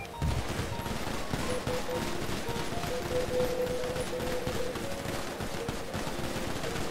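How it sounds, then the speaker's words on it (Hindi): Sustained rapid gunfire crackles through a 21-round salute in a video game roleplay server, a dense continuous burst that starts abruptly and holds steady throughout at moderate volume. "okay officer on account of will fire 21 bullets for Chris"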